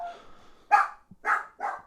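A dog barks three times in quick succession, fairly close and loud, with a faint whine just before the first bark, set in a room where drum rudiments are being practised.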